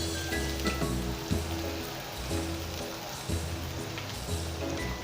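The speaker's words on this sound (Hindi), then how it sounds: "लाइट गोल्डन कलर आने तक प्याज को ऑयल के अंदर अच्छा सा फ्राई करेंगे" Sliced onions fry in hot oil for chicken nihari, a steady, rain-like sizzle with soft crackles running throughout, close and unbroken by speech.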